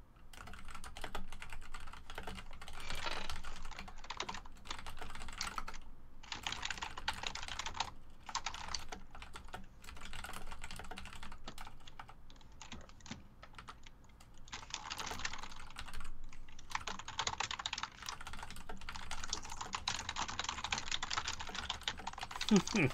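Someone types furiously on a computer keyboard, with rapid clattering keystrokes coming in dense bursts and short pauses between them, fairly quiet and close.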